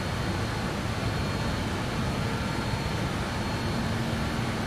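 Steady, unbroken roar of BAe 146 jet engines cruising near altitude in Microsoft Flight Simulator, a dense, even broadband drone with no speech over it.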